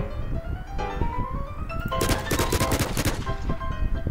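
Gunfire in a video game, several sharp close shots and a rapid burst of cracks in the second half over a busy game soundscape, with no talk.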